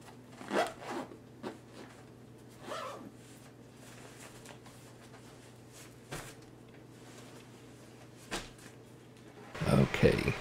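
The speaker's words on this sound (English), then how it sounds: "Let's get this all zipped up so we can move on to the next eBags packing cube." Zipping up an eBags packing cube: several quick, close zip strokes spread across a quiet room with rustling, ending in a louder burst of handling.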